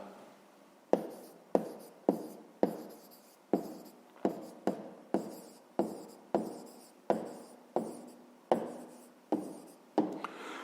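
A pen writes an answer on paper in a maths lesson, making a close, quiet series of about twenty sharp strokes and taps in an uneven rhythm.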